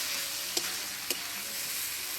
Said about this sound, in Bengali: আলু দিয়ে মশলার সাথে খুব ভালোভাবে আবার কষিয়ে নেব কিছুক্ষণ